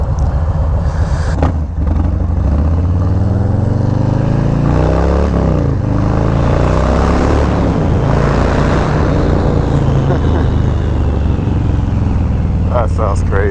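A 2020 Harley-Davidson Low Rider S motorcycle engine runs loud and close, with a deep steady rumble and rising and falling revs as it shifts gears on the road, and a rider talks over it.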